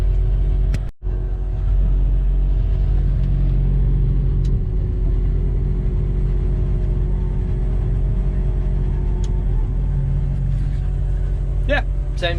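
An agricultural contractor's canola windrower running steadily in an Australian paddock, a continuous low mechanical rumble and drone holding level for the whole stretch, with a brief dropout near the start and light clatter toward the end.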